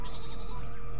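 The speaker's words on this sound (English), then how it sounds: "Did the fucking pig just make a sheep sound?" A pig in a video game lets out a sheep-like bleat, one short, loud wavering cry that fills the brief moment with no talk over it.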